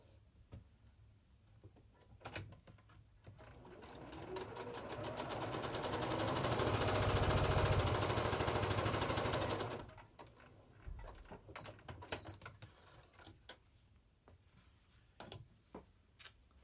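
A sewing machine stitches pieces of quilt fabric for an hourglass block, rising into a steady fast whir of needle strokes that holds for several seconds and then stops, followed by scattered handling clicks nearby.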